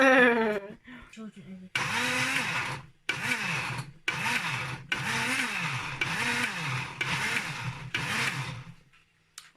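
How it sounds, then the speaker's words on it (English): A blender whirs in several loud, short bursts separated by brief pauses, with a higher motor pitch that rises and falls in each pulse, roughly blending food for stew. "I'm going to blend it now roughly"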